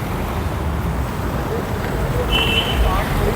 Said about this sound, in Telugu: కార్లు వస్తున్నాయి.